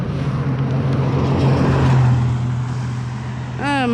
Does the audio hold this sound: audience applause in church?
no